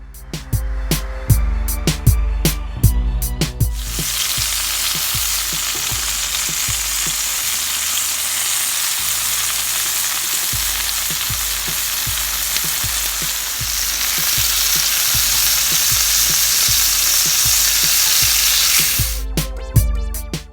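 Mojo-marinated skirt steak sizzles loudly and continuously in a hot pan, a dense steady hiss broken at the start and end by a run of sharp clicking taps.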